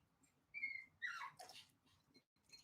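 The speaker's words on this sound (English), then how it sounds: "My whiny dog's whining." A dog whines nearby in short, thin, high-pitched whimpers, two rising cries followed by softer breathy whimpering.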